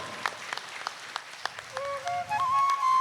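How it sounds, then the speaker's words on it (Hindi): Applause from a devotional satsang audience honoring mothers, a dense crackle of many hands clapping throughout, with a sustained whistle-like tone rising near the end. "सम्मान में हम पुनः विशेष तालियों की गड़गड़ाहट कर रहे हैं।"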